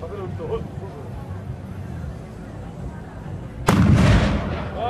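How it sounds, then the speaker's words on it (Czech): A single loud, sharp boom of an 88 mm howitzer firing outdoors at a lakeside event, arriving suddenly near the end after several seconds of quieter background talk, with a rolling decay afterward. "Takže jdeme střílet z houfnice, která má 63 mm, 88."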